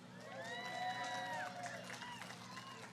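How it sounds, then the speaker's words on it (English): An indoor audience at a city address lets out a faint burst of cheering and whoops that rises, then tapers off within a few seconds. "Give me a cheer if you've ever seen or been to the D.A."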